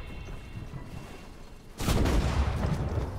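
Gunfire breaks out in an online video game shootout with shotguns and swords: a quiet stretch of faint background noise, then a loud, dense burst of overlapping shots that keeps going to the end.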